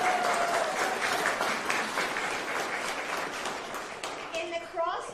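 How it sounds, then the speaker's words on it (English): Applause from an audience gathered for White House holiday remarks, a dense steady patter of many hands filling the room for several seconds, with faint voices and a few higher tones poking through as it tapers slightly. "Yes, let's clap for them."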